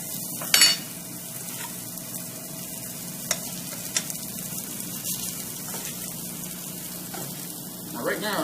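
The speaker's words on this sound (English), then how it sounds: "You'll be able to hear this start to sizzle here in a minute" Flour-coated beef sizzles softly in olive oil in a pan, a low continuous fry with occasional clinks and scrapes of a utensil against the pan, close by.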